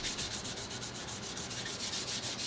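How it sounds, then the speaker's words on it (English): Close, steady rhythmic rasping as sandpaper held in the fingers is rubbed by hand back and forth over the wood stock of a Ruger 44 Carbine during refinishing. "I like to do my finish sanding, or my finishing of each grit, using my hands"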